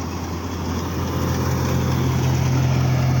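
A tractor engine runs steadily at close range pulling a reaper through wheat after rain, a loud low rumble that grows slightly louder toward the end.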